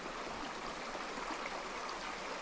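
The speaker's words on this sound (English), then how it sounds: "when you're in little streams like this" A small mountain stream flows steadily over rocks beside the Blue Ridge Parkway, a continuous close rushing and burbling water sound with no pauses or other noises.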